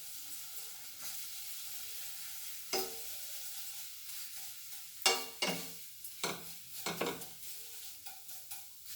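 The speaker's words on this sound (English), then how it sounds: "Now I will fry this. So we'll fry this on slow fire." Vermicelli frying in ghee over a slow fire, a steady soft sizzle with intermittent scraping and stirring clatters against a stainless steel vessel, close and fairly quiet.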